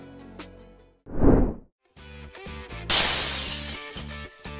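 Glass shatters loudly during a hardness test, a sharp bright crash that bursts in near the three-second mark and rings on with scattered debris, after an earlier brief thump and over a steady musical backdrop.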